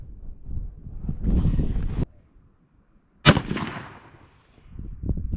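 A .360 Buckhammer rifle fires a single loud, sharp shot outdoors midway through, framed by wind rumble before and after.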